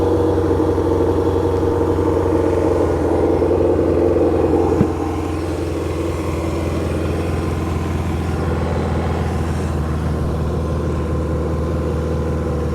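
A 1978 Kawasaki KZ650 motorcycle engine runs steadily nearby, a continuous low rumbling idle with a faint mechanical clatter layered on top and one brief tick partway through; nobody speaks.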